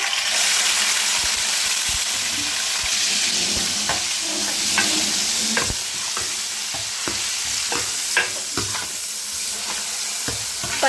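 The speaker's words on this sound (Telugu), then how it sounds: "పచ్చిమిర్చి ఉల్లిపాయ టమాటా పేస్ట్ అయితే వాసన పాయింట్ వరకు బాగా ఫ్రై చేసేసుకున్నాం" A paste of onion, green chili and tomato frying in hot oil for a fish curry with okra, a strong steady sizzle broken by stirring scrapes and a few pops, close and with no voices.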